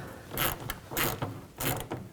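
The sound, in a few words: tightening a worm clamp on a fuel tank line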